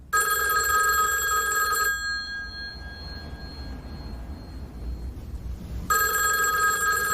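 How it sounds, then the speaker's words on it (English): A telephone rings in a crime drama scene, a loud close electronic trill lasting about two seconds, then a pause of roughly four seconds before the ring starts again. "You can answer your phone."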